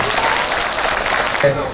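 An audience at a neighborhood food festival in Gimcheon claps together in dense, steady applause for nearly two seconds. It ends abruptly as a voice comes in.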